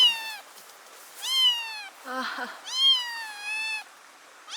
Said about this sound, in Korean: 갑자기 고양이 소리가 들려서 차를 잠시 세웠어요